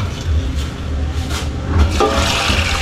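Water is poured into a pot holding about 1,200 grams of beef with garlic, onion and ginger for papaitan, making a steady, close splashing and gushing rush that lasts throughout.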